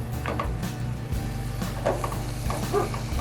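Sausage browning in a pan gives off a steady, close sizzle with a low hum running underneath and faint crackles scattered through it.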